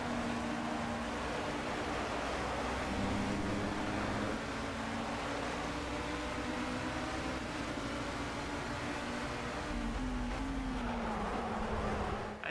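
A race car in Project CARS drones at steady engine pitch with tyre and wind noise, the tone sliding down and back up as it brakes into a corner and accelerates away, continuous and fairly loud with no talk.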